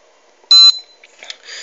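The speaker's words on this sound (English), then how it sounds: "If the fire occurred, it gives the buzzer." A short, loud, high electronic beep from a fire alarm buzzer on a sensor-based industrial security prototype, a single tone followed by faint clicks and rustle.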